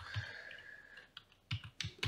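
Quiet typing on a computer keyboard, a few scattered key clicks followed by a quick cluster of taps near the end.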